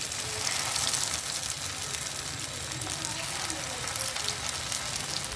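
Onions frying in foaming mustard oil give a steady, dense sizzle with a hissing crackle throughout, close and moderately loud, with no pauses.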